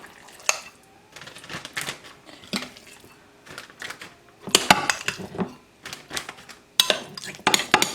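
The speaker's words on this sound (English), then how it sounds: "So what I'm going to do is just scoop my filling into my bag here." Pumpkin filling being scooped into a freezer bag, with scattered clinks and scrapes of a utensil against a bowl and crinkly plastic rustles, close up and irregular, no talking.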